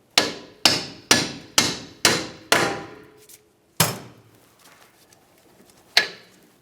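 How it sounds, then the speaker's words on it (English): A hammer taps the rear suspension lateral link of a 2009-2019 Ford Flex to break it free, with five quick, sharp metallic strikes in a steady rhythm, then three more spaced-out hits, each ringing briefly and close by. "Now we'll use a hammer and give this a couple taps to break it free."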